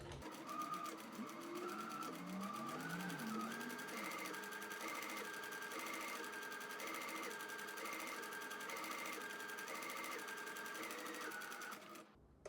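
A sewing machine stitches an invisible mend in a dress, running in a steady, close, continuous whir with a shifting tone before it stops abruptly at the end.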